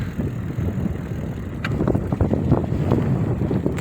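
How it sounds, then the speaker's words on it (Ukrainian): Steady tailwind rushes and buffets against the microphone during a bicycle ride in a Peruvian dust storm, a loud continuous roar with gusty crackling bursts, no voices. "вітер в спину такий дує, що мене кульки обганяють"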